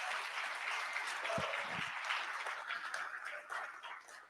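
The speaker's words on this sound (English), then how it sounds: "Let's give another round of applause for all of our presentations tonight." An audience at a tech pitch event claps steadily for the presenters, a soft, distant wash of applause that holds throughout at fairly low level.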